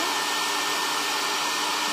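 A hair dryer blows steadily over glue spread on an MDF board, a constant loud whooshing roar with no change in pitch and no talk.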